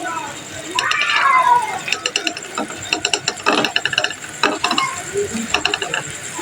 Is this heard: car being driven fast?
no